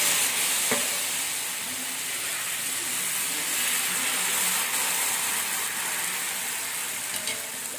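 Ragi dosa batter sizzles steadily on a hot oiled pan, a loud continuous frying hiss that holds evenly throughout with no talk.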